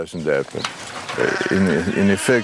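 Flock of sheep bleating in the bush, several overlapping wavering bleats close by and fairly loud, continuing through most of the stretch.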